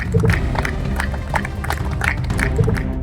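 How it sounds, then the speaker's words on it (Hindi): Rhythmic crowd clapping welcoming BJP MLA Krishan Bedi of Narwana at a village chaupal gathering, steady and close, with dense overlapping claps throughout. "जोरदार तालियों से स्वागत कीजिए नरवाना से बीजेपी के विधायक कृष्ण बेदी का"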